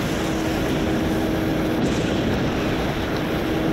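A small boat's engine in the video game Just Cause gives a steady, loud droning roar with rushing water-like noise, unbroken throughout.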